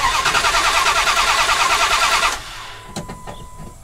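Dodge Dakota R/T engine cranking with a fast, even starter churn for a little over two seconds, then stopping, followed by a few faint clicks and taps in a quiet garage.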